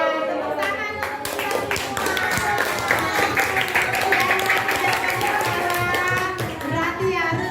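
Children in a classroom clap together in a short burst of rhythmic applause, mixed with overlapping young voices and chatter throughout.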